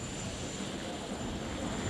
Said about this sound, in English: So the helicopter noise is dying down very quickly now.